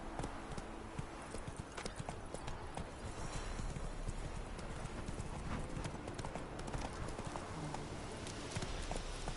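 Horse hooves trot at a steady clip-clop through the whole stretch in the video game Witcher 3, an even, continuous rhythm of close, fairly loud hoofbeats over a low outdoor ambience.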